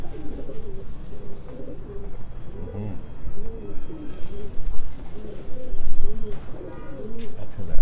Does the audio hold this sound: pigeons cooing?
yes